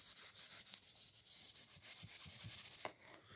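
Something is rubbed off by hand in quick, faint scratchy strokes, a soft sanding-like rasp repeated in an uneven rhythm, heard alone without talking.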